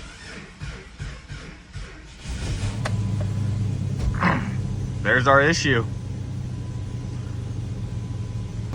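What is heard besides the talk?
old Jeep engine starting and running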